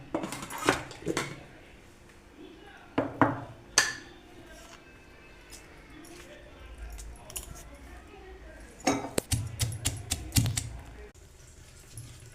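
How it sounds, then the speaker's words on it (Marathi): Coriander, raw onion and salt are pounded in a mortar, sharp irregular knocks in short clusters separated by quieter gaps, with a voice speaking at times. "आता हे आपण मीठ टाकूया याच्यात आणि कुटून घेऊया"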